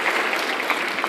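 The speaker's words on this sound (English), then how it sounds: "They're going to give you a big round of applause" A brief, dense round of clapping from a seated audience, steady and fairly loud, with a few sharper claps popping out near the end.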